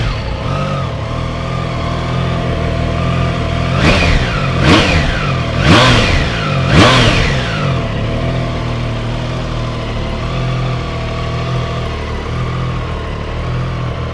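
A 2021 Triumph Trident 660 three-cylinder motorcycle idles steadily up close, then is blipped through four sharp throttle revs in quick succession before settling back to an even idle.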